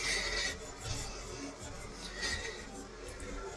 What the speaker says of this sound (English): So if you guys do use steel wool, you guys have to make sure that you guys scrub